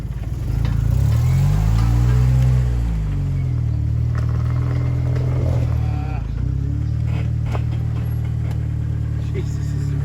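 Engine and motor drone of an RC crawler pushing with extra wheel speed up a slippery trail in low range, a steady loud whine that swells and dips as it climbs, with a person talking over it.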